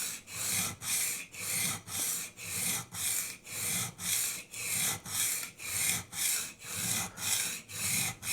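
Rhythmic back-and-forth strokes of a knife blade pushed by hand across a diamond sharpening stone, about fourteen even scrapes in steady cadence, close and clear with no talking.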